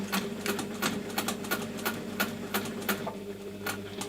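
Sewing machine stitching a waxed fabric slouchy bag along its top-stitch line, a rapid mechanical whir with regular needle clacks at an even, quick rhythm, close and steady.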